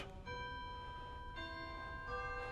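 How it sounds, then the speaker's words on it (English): A Ruffatti pipe organ's tubular chimes, small metal bars struck by a hammer, ring out in a few separate strikes, each note sustaining with a bright, bell-like shimmer over a quiet background. "The organ also has tubular chimes, which sound"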